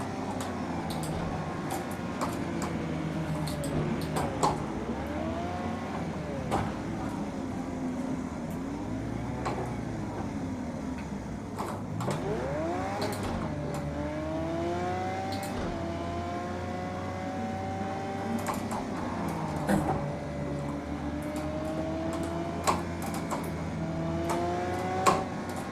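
Car engine in the Project Cars 2 racing game, a large engine that revs continuously with rising and falling pitch sweeps as gears change, loud and steady for the whole stretch with no talk.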